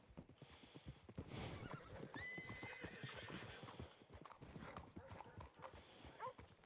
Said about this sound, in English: Why did I just see a horse speeding through town without a person?